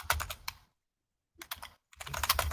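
Close, crisp computer keyboard typing comes in two quick bursts of keystrokes with a brief silent pause between them.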